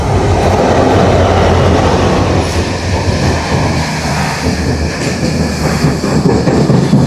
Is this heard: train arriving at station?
yes